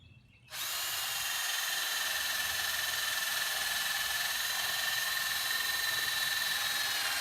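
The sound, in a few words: drill drilling holes in wooden stage boards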